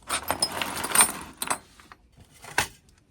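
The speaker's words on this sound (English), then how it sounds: "And the rest is just Allen keys." Loose Allen keys jangle and clatter in a metal tin in a few quick, close bursts of bright metallic rattling separated by short pauses.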